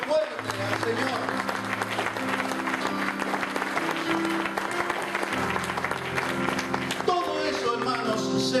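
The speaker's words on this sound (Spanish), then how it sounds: "Den ese aplauso fuerte al Señor" Loud congregational applause fills a church service after a prayer of thanks, dense and steady with sustained tones, likely music or voices, running beneath and a shift near the end.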